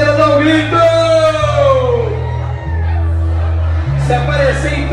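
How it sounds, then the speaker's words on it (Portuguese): Women at a wedding bouquet toss shout and whoop together in a loud crowd, their voices rising over pounding party music with heavy bass. "Quem tá solteira dá um grito!"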